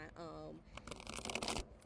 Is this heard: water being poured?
no